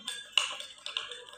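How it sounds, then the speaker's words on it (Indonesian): A ladle stirs a hot drink made with hot water in a pot, giving light metallic clinks and scraping taps in a short, uneven run at close range. "Setelah itu kita aduk."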